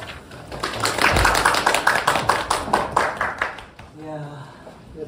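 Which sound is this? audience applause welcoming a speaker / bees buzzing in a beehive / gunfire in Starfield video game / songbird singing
audience applause welcoming a speaker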